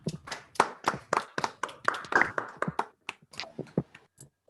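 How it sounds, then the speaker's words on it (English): Scattered clapping from a small online lecture audience after unmuting, uneven claps from several people overlapping and tapering off, close and unpolished through laptop microphones. "can everybody unmute themselves and give Dominic a big round of applause"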